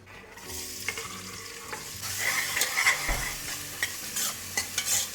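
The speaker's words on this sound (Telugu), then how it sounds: "ఉల్లిపాయ వేసి ఉల్లిపాయ కొంచెం మంచి కలర్ వచ్చేంత వరకు వేగనివ్వాలి." Onions frying in oil with cardamom, cloves, star anise and bay leaf for a chicken curry, a steady close sizzle broken by occasional stirring clinks and scrapes.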